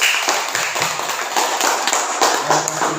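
Classroom students clapping hands together, a steady burst of fairly loud, rapid overlapping claps lasting a few seconds, with a faint voice underneath.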